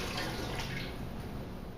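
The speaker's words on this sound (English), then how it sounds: "now we've got our water in the pot" Water poured into a gumbo pot, a faint steady rushing splash that continues without a break, with no talk.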